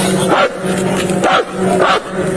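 Police dog barking repeatedly in loud, rhythmic bursts at an outdoor scene, each bark ringing with strong harmonics over ongoing background noise.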